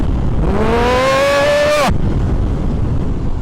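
Harley-Davidson Dyna Street Bob motorcycle engine while riding, a loud close rev climbing steadily in pitch for about a second and a half before cutting off abruptly, leaving road and wind noise.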